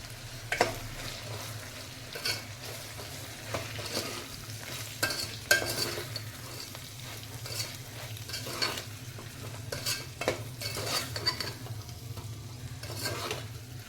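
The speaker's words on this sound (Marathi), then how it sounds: "तो देखील आपण एक दोन ते तीन सेकंद परतून घ्यायचा आहे" Ivy gourd sautéing with a spice mix in a pan, a steady sizzle under frequent scraping and tapping stirs that come in an irregular rhythm, close up, with no speech.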